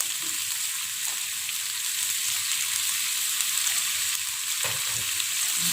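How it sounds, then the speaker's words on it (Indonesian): Beef oxtail and sliced carrots being stirred in a pot for oxtail soup, with a steady sizzle and soft scraping of the spoon at close range and a couple of louder clunks, without any voices. "Setelah buntut sapi kita masukkan, ini kita aduk rata"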